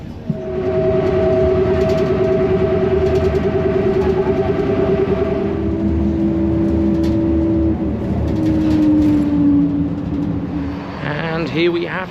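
City bus riding into downtown Halifax, a loud steady engine drone with rising and falling tonal whine from inside the cabin, a brief clunk near the end.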